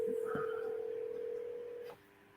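A telephone plays a steady dialing tone while a call is being placed, with faint blips over it, the tone holding for about two seconds before cutting off to quiet room noise.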